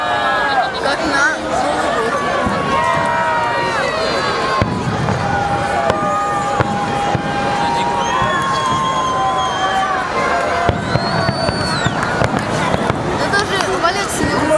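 A Victory Day fireworks display in Tula on 9 May 2013 pops and crackles continuously over a large outdoor crowd, with lots of nearby chatter, some cheering and whistling tones throughout.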